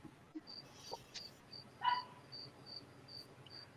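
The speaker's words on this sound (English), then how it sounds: "Crickets." Crickets chirp in steady, evenly spaced pulses against a quiet night background, with a faint distant dog bark or whimper partway through.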